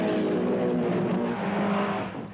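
A Volkswagen Rabbit L race car roars close by with a loud, steady engine drone and slight pitch shifts, alone without talk.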